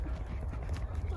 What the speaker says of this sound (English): Now that's one gentle, nice horse.